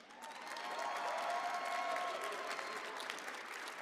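Steady applause from a crowd for the players at a Bandai card game event, swelling in the first second then holding at a moderate level, heard from some distance.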